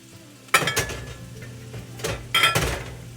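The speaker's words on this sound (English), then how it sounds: "I'm going to put this lid over top" A lid goes onto a cooking pot in a kitchen while chana masala rice cooks, giving a few sharp metallic clanks and rattles over a faint sizzle, close and without talk.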